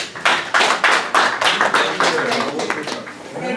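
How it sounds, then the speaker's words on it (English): Applause from the audience at a Nigeria–Italy business and investment forum, with rhythmic clapping pulses that are loud and close, blending into a crowd texture for several seconds. "Please give her a round of applause."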